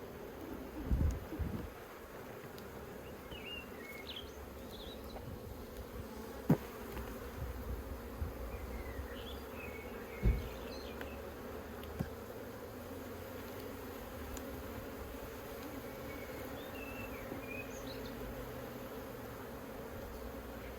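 Honey bees buzzing around an open hive in an Australian apiary, a continuous low hum of many insects close by, with occasional faint clicks and knocks from handling the hive.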